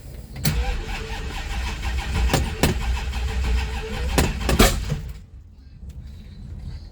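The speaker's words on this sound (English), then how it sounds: "Backfire." A race car engine starts up close by and runs rough, with several sharp backfire bangs breaking through the loud rumble before it cuts off into near quiet.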